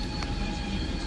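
Train rolling past on the rails overhead, a steady dense rumble with a faint wheel squeal mixed in, loud and continuous throughout with no voices.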